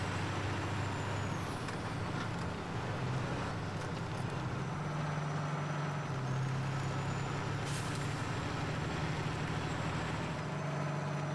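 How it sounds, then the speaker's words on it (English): A truck engine from the farming game Farming Simulator 17 rumbles steadily at close range, a low continuous drone with a faint hiss of air brakes, with no talking. "Can you all hear that truck good?"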